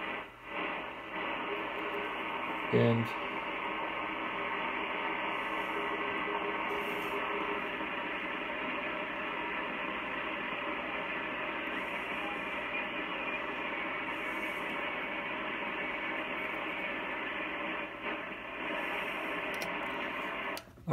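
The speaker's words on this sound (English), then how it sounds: "I have a lot more static." Dense, hissing radio static from a Drake TR4 receiver tuned to 40 meters on a 240-foot long wire antenna, a steady loud wash with faint crackles and one brief click near the start.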